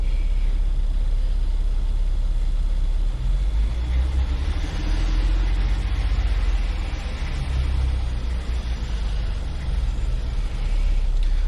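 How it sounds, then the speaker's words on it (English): Engine of a 2007 Jeep Wrangler running with the AC compressor engaged, revved a little: a steady, loud low rumble that swells slightly mid-clip, with no talking. "I'm going to rev the engine just a little bit."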